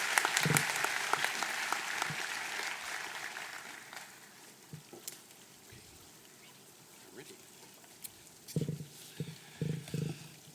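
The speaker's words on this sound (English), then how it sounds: "Please join me in giving one last round of applause for these outstanding alumni." Graduation ceremony crowd giving alumni a final round of applause, a broad roar of clapping that swells early then fades over several seconds, leaving scattered claps and thumps near the end.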